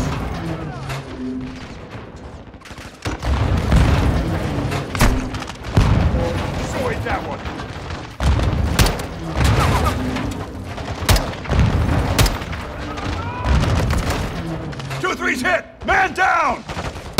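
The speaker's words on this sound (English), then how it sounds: "Incoming! Take cover! They're launching grenades!" Modern Warfare 2 combat on PS4 brings heavy booms from grenade explosions mixed with bursts of gunfire, loud and continuous, with shouted voices over the battle.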